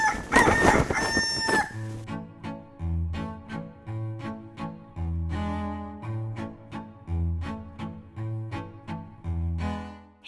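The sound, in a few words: rooster crowing among backyard chickens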